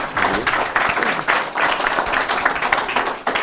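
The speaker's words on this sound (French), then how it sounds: "Vous pouvez l'applaudir." Audience applause at a French round-table colloquium on eco-construction, a dense steady wash of many hands clapping close by that holds throughout and swells in waves, with no talk over it.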